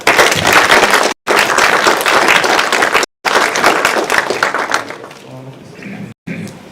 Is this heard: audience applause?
yes